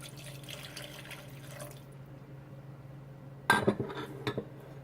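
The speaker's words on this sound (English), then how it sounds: "I'm going to add some water to it." Water splashes and clatters into a cooking pot being readied for oxtail and goat stew, a short burst of pouring against a steady background hum.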